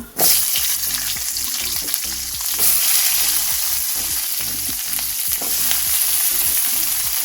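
Onions frying in a pan with other vegetables for street-style gobi manchurian, a steady loud sizzle with clatter from stirring and scraping that runs right through the whole stretch, no voices.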